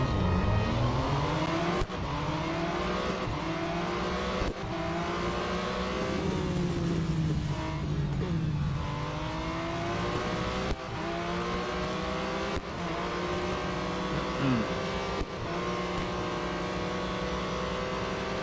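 Race car engines scream around Mount Panorama in the Real Racing 3 video game, a sustained loud roar with rising and falling revs and sharp gear-change breaks through the whole stretch.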